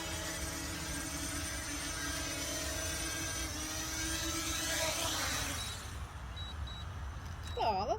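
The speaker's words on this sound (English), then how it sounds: "If you hold down, it won't crash into the ground, it will go into landing mode and it will land itself." A DJI Mavic Mini drone whines with high-pitched propeller buzz as it descends in landing mode, the tone shifting as it settles, then cutting out near the end, fairly faint and close.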